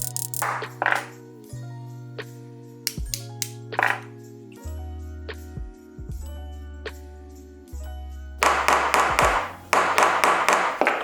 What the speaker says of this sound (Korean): 베어링이 튀어나오지 않도록 쇠봉의 끝에 망치질을 해줬습니다.